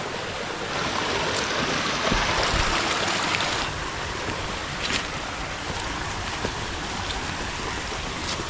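A small stream flowing among bamboo in a cool, shaded spot gives a steady broadband rush of running water, close and fairly loud, with no one speaking.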